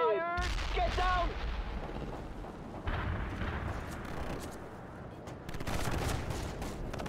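Cold War–era combat in World in Conflict erupts in loud, dense bursts of gunfire and artillery blasts, rattling continuously with heavy booms, while soldiers' radio chatter and shouts come through in the opening moment.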